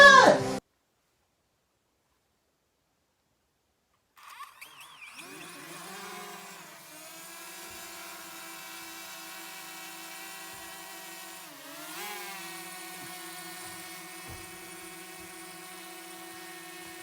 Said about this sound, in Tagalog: Guys, ito yung drone natin.